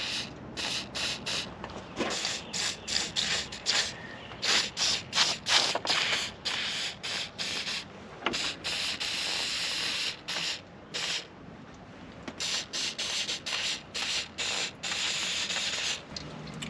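An aerosol protective coating is sprayed onto golf cart battery terminals in repeated short bursts of hiss, close and fairly loud, with brief pauses between sprays and no talking.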